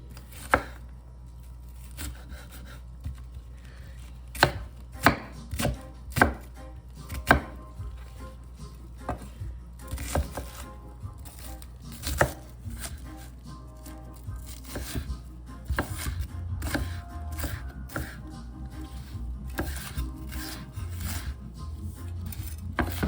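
Half an onion is chopped on a board for spicy Jamaican beef patty filling: a knife taps out irregular, close, crisp strikes, sometimes in quick runs, with no talk over them.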